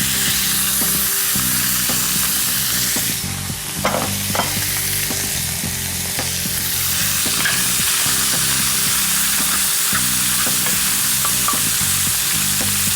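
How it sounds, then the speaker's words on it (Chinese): Lamb stir-fries in a hot pan, sizzling loudly and continuously with occasional scrapes and clacks of stirring, and no voices. "呢隻羊肉係炒啊"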